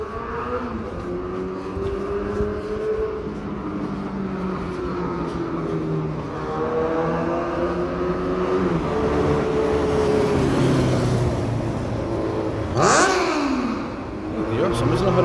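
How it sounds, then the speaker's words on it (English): A two-stroke motorcycle accelerates past on a Glasgow street, its rising engine note swelling briefly over steady street noise and a nearby talking voice, then fading as it goes by. "You can feel the two-stroke off that bike."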